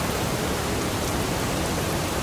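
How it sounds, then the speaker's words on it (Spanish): Steady rain begins to fall in the video game The Missing: J.J. Macfield and the Island of Memories, a dense even hiss of rainfall that runs alone at a constant level throughout. "se largó la lluvia"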